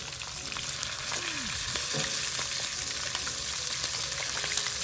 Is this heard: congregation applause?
no